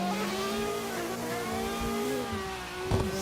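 Street-spec drift cars run in close tandem at a competition at ESDA Atron, one engine holding a loud sustained high rev with a rising whine, tires hissing and a brief surge near the end.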